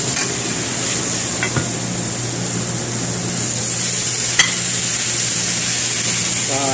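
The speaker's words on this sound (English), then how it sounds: "Wow, that's just sizzling hot" Food sizzles and crackles steadily in a hot pan, a constant close frying hiss with an occasional small clink.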